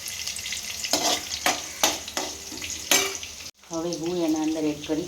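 Lentils, peanuts and chillies fry in a pan with a bright sizzle, broken by several sharp stirring scrapes. The sizzle briefly cuts out, then returns as a steady, spitting hiss.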